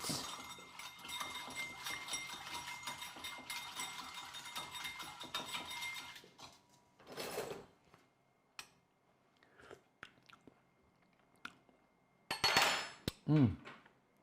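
Salmon ceviche being stirred in a dish, with soft wet mixing, scraping and occasional clinks of a utensil against the bowl, a dense stretch first and then sparse, close taps and clatters later, no talk.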